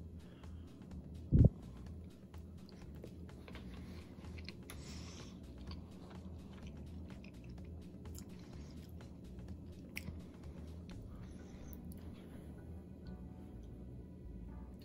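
Chewing of Z Ration beef bits eaten with broth from a 24-hour ration pack, soft and close-up, with steady quiet mouth sounds, a brief sharp click near the start, and no talking.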